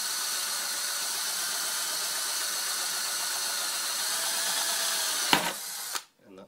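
A power drill bores a pilot hole in stainless steel with a loud, steady grinding whir held close by, then a brief catch and clunk before the motor winds down and stops near the end.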